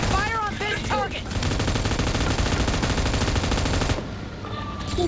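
Rapid automatic gunfire from PUBG Mobile rattles in a dense, continuous burst for several seconds, loud and close, with a brief voice and game sounds at the start and a quieter tail at the end.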